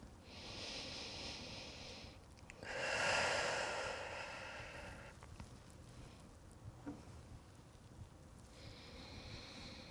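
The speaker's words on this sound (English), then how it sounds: "Breathe deep." Deep breathing during a yoga thread-the-needle stretch, soft airy breaths with one fuller, louder exhale near the middle, close and quiet, with no one speaking.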